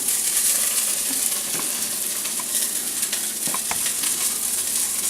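Onions frying in oil for turkey stuffing soup, a steady close sizzle with faint crackles and occasional small pops, no voices.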